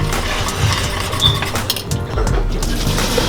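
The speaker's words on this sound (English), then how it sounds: "right here I got an 8x8 glass Pyrex pan" An 8x8 glass Pyrex baking pan clinks and knocks against a kitchen surface, a few bright taps over steady room noise while mac and cheese is prepared.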